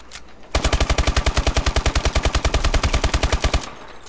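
Rapid automatic hip-fire from a weapon in Call of Duty: Advanced Warfare, a loud, evenly spaced burst of about thirty shots lasting three seconds, then stopping abruptly.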